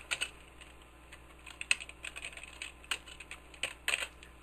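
Irregular bursts of keystrokes clatter on a computer keyboard, close and fairly quiet, with short pauses between clusters of taps and no talking.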